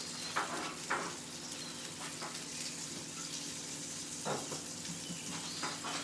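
Eggplant frying in hot cooking oil gives a steady, fairly quiet sizzle throughout, with a few short louder crackles and spatters rising above it and no voices.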